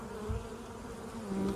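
Honey bees buzzing steadily as they are shaken into a new hive box during a hive inspection, a close, low droning hum with a couple of brief louder swells.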